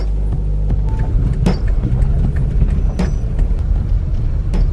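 A car drives through a snowy residential neighborhood in remote Alaska in winter, its low engine and road rumble steady and close throughout, with a few brief knocks and clunks over the continuous drone and no talking.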